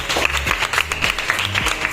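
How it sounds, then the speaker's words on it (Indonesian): Children in a classroom clap together in a dense, steady burst of applause lasting a couple of seconds, fairly close and even in loudness. "Tepuk tangan dulu untuk semuanya."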